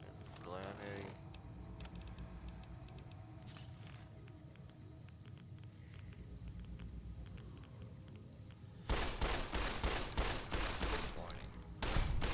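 Pistol gunfire in the Fallout New Vegas video game, with a dense burst of rapid loud shots near the end following a quieter stretch of game ambience and a few faint earlier cracks.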